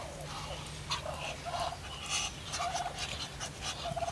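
A turkey gobbles in short repeated bursts among a flock of Muscovy ducks, with steady low background noise running underneath and no talking.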